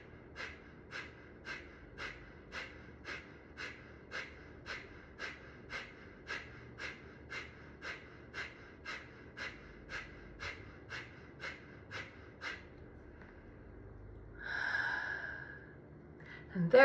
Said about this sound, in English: That's Kapalabhati Pranayama breathing technique.